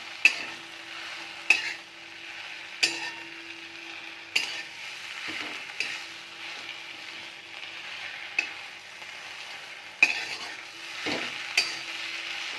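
Ambadi (sorrel) leaf bhaji cooking down in a pan, a spoon scraping and stirring in regular strokes over a soft, steady sizzle, with no voices.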